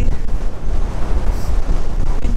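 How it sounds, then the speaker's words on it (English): Wind rushes steadily past the microphone on a blustery December day near a castle in Northumberland, a dense, continuous roar with no voices. "windy day."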